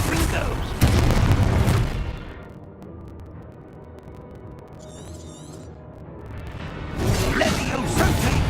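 Confringo blasting spell in Hogwarts Legacy, a loud booming explosion with crashing debris at the start that fades to a low rumble, then another burst of blasts and crashes near the end.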